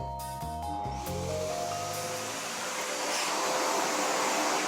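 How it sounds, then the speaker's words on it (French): A household vacuum cleaner runs steadily in a home being cleaned before a birthday gathering, a loud continuous broadband whoosh rising after a few short tonal sounds at the start. "un dernier coup d'aspirateur et tout y passe."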